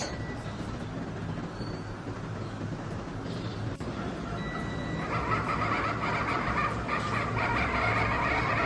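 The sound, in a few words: multi-function washing machine running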